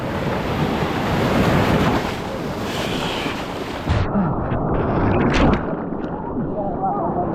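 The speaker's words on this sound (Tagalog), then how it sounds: "Laki ng alon!" Loud ocean waves crash and roar close by at La Union, Philippines, with heavy wind buffeting, then the surf drops to a softer wash before surging again.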